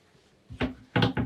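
A large linen drawer under a bed in a twin guest cabin of an Explorer 62 motor yacht, held shut by a strong magnet, gives three close wooden knocks as it is pulled and pushed.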